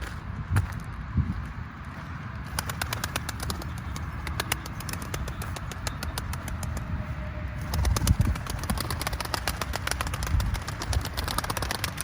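Pigeons land around their keeper, with bursts of sharp wing flapping and clattering over a steady low background, quieter at first and busier toward the end.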